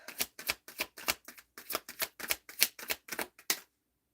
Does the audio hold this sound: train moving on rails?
no